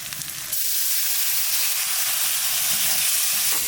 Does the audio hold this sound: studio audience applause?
no